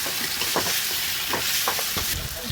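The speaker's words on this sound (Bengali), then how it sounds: "ভাজা হয়ে গেছে, এখন মশলা মাখানো মুরগিগুলো দিয়ে দেব। এগুলো তেলের মধ্যে ভালোভাবে কষাবো বেশ কিছুক্ষণ।" Spiced, marinated chicken pieces sizzle and crackle steadily in hot oil, a continuous bright frying hiss with occasional stirring scrapes and pops.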